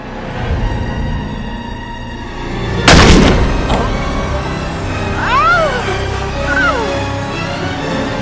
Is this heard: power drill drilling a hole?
no